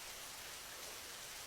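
Rain falls steadily, a soft, even hiss of drops on surfaces with no speech and no distinct nearby impacts.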